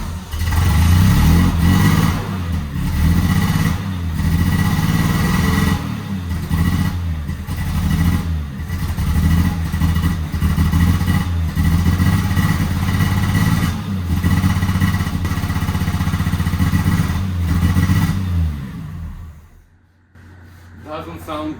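A restored 1970 Triumph TR6 engine runs unevenly with a rough, pulsing note and occasional dips, loud and continuous for about twenty seconds before cutting off briefly, with someone speaking over it.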